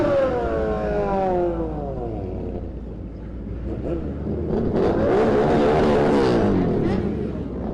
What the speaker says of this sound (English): that's the loudest CBR I've ever heard in my life